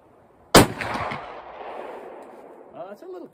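One sharp, loud shot from a Savage 24C firing a 3/4 inch slug on a windy outdoor range at 75 yards, then a long rolling echo that fades, with a brief voice near the end.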